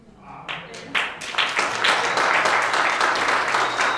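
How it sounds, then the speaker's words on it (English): At a political kick-off meeting, a few sharp individual claps quickly build into full, loud audience applause that stays dense and sustained. "You're clapping for yourselves."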